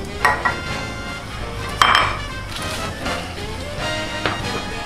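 Pots, pans and dishes clatter and clink in a series of sharp knocks, one louder bang near the middle, close by with no talking.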